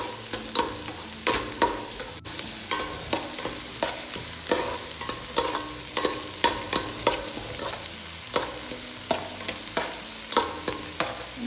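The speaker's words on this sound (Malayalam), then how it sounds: "പിന്നെ ഇതിലേക്ക് ഞാൻ മൂന്ന് പച്ചമുളകാണ് നടുവൊന്നും ചീറാതെ ഇതുപോലെ ഇട്ട് കൊടുത്തേന്." Whole green chillies sizzling in hot oil in a pan, with a spoon or spatula scraping and stirring in frequent irregular strokes over steady frying hiss.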